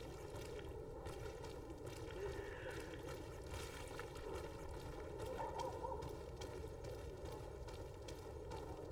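A rooster in the video game Greedfall makes a steady, faint, hoarse gobbling clamor, continuous through the whole stretch with no talking over it.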